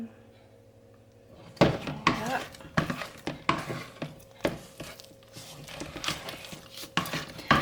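Homemade playdough made with cheap flour, stiffening as it is stirred in a pan, gives irregular scraping and knocking strokes close by, starting after a quiet moment and repeating unevenly, with faint hum underneath.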